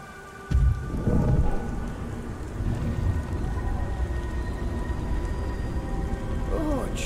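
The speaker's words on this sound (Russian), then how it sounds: "О, чертов дождь." Steady rain pours in the video game Beyond: Two Souls, with a low rumble of thunder underneath and a heavier burst near the start, continuing without pause.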